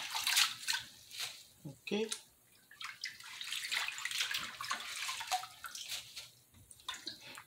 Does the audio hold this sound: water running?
yes